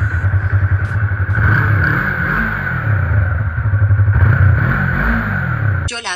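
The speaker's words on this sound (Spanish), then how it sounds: "vamos a hacer la prueba de sonido con el escape original. Está neutral, vamos a darle cuerda." A motorcycle in neutral with its original exhaust, revved repeatedly in pulses, the engine climbing and dropping in a throaty, loud, close burble before cutting off abruptly at the end.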